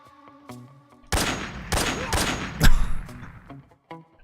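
Gunshots in Metal Gear Solid 3: Snake Eater, a few loud close bursts of gunfire in quick succession, with one heavier crack near the end over quiet game ambience.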